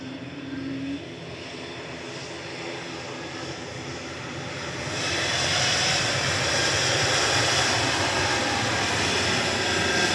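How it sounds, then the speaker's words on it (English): A KLM Embraer E195-E2 jet departs from Manchester Airport for Amsterdam, its broad engine roar holding steady and then swelling louder and brighter about halfway through as the take-off thrust builds, with no voices. "Heading back to Amsterdam. KLM flight 1030 PHNXG. It's an Embraer"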